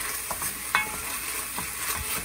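Red curry paste with a couple of spoons of coconut milk stirred over very low heat for Thai chicken and pumpkin red curry, a faint continuous simmer with soft spoon strokes and one brief clink.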